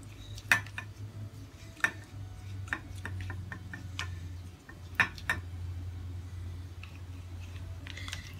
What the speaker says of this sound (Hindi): एप्पल साइडर विनेगर से हम इसे मिक्स करेंगे।